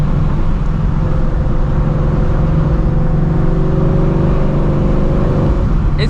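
Supercharged Shelby GT350 engine idling inside the car, a loud, steady low rumble with a constant drone and no revving or speech.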